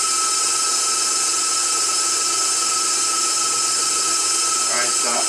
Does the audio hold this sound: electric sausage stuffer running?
yes